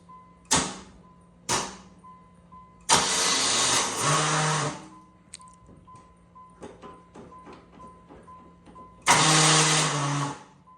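A Pontiac Fiero's starter cranking after 27 years: two short clicks, then a longer grinding crank, scattered ticks, and another cranking burst near the end, loud and close.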